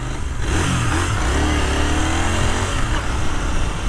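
A Royal Enfield motorcycle engine revs loudly and up close, a continuous throaty roar whose pitch rises and falls in short sweeps over about four seconds, with no other sound.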